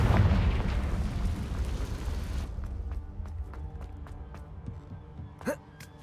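A Confringo blasting spell explodes in Hogwarts Legacy, a loud rumbling blast that fills the start and decays over a couple of seconds, followed by quieter scattered clicks and a brief sharp burst near the end.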